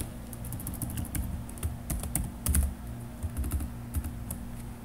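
Close typing on a computer keyboard, a quick irregular run of clicking keystrokes over a faint steady hum, with no one speaking.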